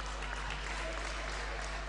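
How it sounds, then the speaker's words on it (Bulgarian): Arena crowd at a women's basketball game between Beroe Stara Zagora and Levski in Bulgaria cheers and applauds as a substitute player enters, a dense, steady roar of clapping and voices filling the hall without a break. "Публиката тук в залата се ентусиазира, защото в игра се появява Никол Ганчева."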